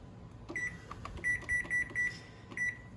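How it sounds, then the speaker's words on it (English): Kitchen timer beeping while a garlic sheet pan pizza bakes: six short, evenly spaced electronic beeps in a quiet kitchen, moderately loud and close, with no voices. "timer's going off again"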